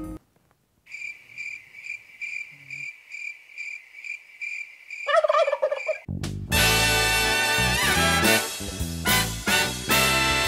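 A turkey gobble sound effect opens over a steady, pulsing cricket chirp, ending in a brief gobbling burst before loud, dense music takes over for the rest.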